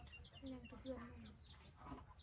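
Chickens cluck softly at close range in a rural Thai setting, a few low clucks under faint background noise, with some higher chirps mixed in.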